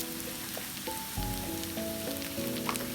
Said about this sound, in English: You will just fry the onion like 3 minutes.